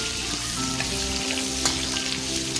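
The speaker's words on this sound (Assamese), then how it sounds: "এইখিনি অকণমান লৰাই লৈ ইয়াতে মই দিছোঁ পিঁয়াজ" Onion and a bay leaf fry in hot oil, a steady close sizzle with a soft stirring scrape partway through, no voices.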